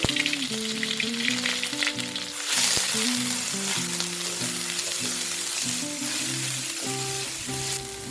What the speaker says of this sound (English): I'm going to fry this on a low-medium flame in 2 tablespoons of oil.